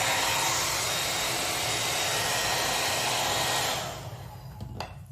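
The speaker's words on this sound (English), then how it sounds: "Now we're going to make efforts to begin to blow a design." A hair dryer blows acrylic paint across a canvas in a Dutch pour, a loud, close, steady broadband rush that cuts off near the end, leaving faint handling noises.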